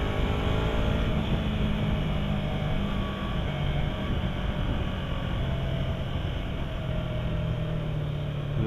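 A 2015 Yamaha R3 motorcycle engine drones steadily during a test ride, held at fairly high RPM, mixed with heavy wind rush and no talk.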